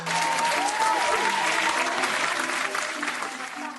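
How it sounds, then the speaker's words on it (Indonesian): Steady, loud clapping from a group of primary school children in a classroom fills the whole stretch, holding strong before tapering off slightly toward the end. "Kita tepuk tangan dulu ya untuk kita semua."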